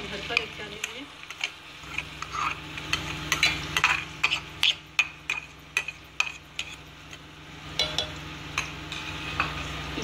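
Onions hiss softly in a cup of hot oil in a home kitchen, with a spoon clicking and scraping the pan in quick, irregular taps over a low background hum.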